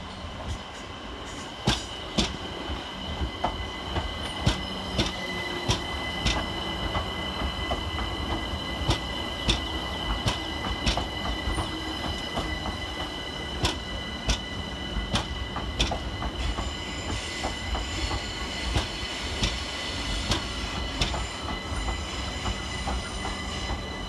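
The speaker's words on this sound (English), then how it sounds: "we see 378225 arriving, terminating with a London Overground service from Dalston Junction." London Overground Class 378 electric train 378225 pulls into Clapham Junction on a Dalston Junction service, a loud continuous rumble with rhythmic wheel clicks over rail joints and sharp squeals as it slows, with no voices.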